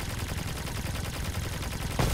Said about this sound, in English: Some shots are whizzing by him